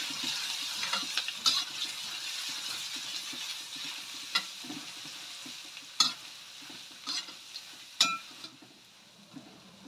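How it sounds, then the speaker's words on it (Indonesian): Ginger sautéing in a pan for a wood ear mushroom stir-fry gives a steady close sizzle, with scattered spatula scrapes and clinks, the louder ones near the 6 and 8 second marks, and no talking. "tumis jahe hingga wangi"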